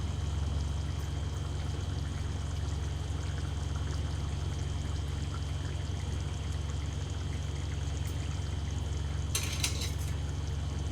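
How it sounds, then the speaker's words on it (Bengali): Boiled eggs go into a simmering egg curry in a pot, a steady close bubbling hiss throughout, broken near the end by a brief bright clink of utensil against the pan. "এবার ডিমগুলো দিয়ে দিচ্ছি।"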